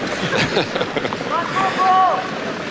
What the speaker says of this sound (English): The wind now really gusting.